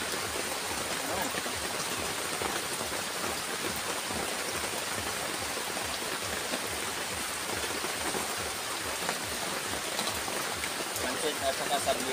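Heavy rain pours down steadily, a dense, loud hiss of drops with no pause, and a voice speaks briefly over it.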